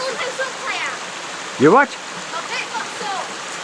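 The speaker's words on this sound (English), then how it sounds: "So what do you think of that waterfall?" A tiny waterfall in a burn gives a steady, close rush of splashing water throughout, while a person's voice breaks in briefly partway through.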